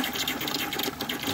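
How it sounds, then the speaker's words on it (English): Water gushes in a steady, hissing rush as it flushes through a hydronic fan coil system to purge air bubbles. "you wanna flush it until there's a constant stream or no more bubbles"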